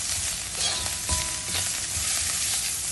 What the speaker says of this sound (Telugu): ఈ ఉల్లిపాయలు వేగినప్పుడు కొంచెం గరం మసాలా పౌడర్, ధనియాల పౌడర్, జీలకర్ర పౌడర్ ఇది కూడా వేసి శుభ్రంగా వేగనివ్వాలి.